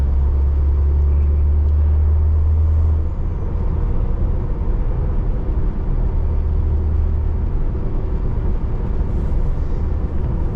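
A 2007 Pontiac Solstice GXP turbo sports car driving, heard from inside as a steady, loud low engine drone and road rumble with no talking.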